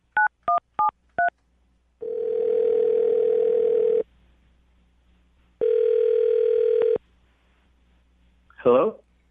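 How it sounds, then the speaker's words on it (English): A telephone on a radio show sounds four short touch-tone beeps, then a long steady dial tone, a pause, and a second shorter tone burst, ending with a brief voice. "I'm going to dial the phone number right now"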